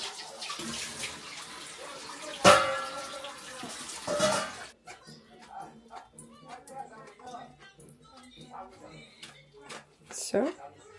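Water drained from a pot of cooked pasta splashes and pours briefly, then trickles and drips in short bursts.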